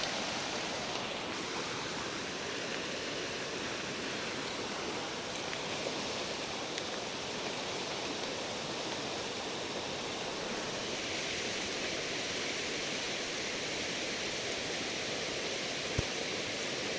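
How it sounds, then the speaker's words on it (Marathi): A small village stream runs with strong force, giving a constant broadband rush of water that stays even and unbroken, moderately loud and close, with no talking. "पाण्याचा फोर्स भरपूर आहे."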